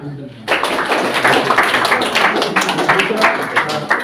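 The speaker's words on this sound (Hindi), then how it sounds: "तालियां।" Group clapping from students at a Teacher's Day school ceremony in India, starting abruptly and continuing as a steady, fairly loud round of applause throughout, with voices mixed in.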